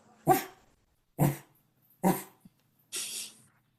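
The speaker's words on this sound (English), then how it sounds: "Is there a dog in here?" One dog gives four sharp, loud barks spaced about a second apart indoors, the last one breathier and drawn out, with near silence between them.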